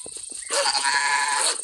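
Sheep bleating in a video game, a short, loud, sustained bleat that rises abruptly after a faint, quiet opening and holds steady to the end.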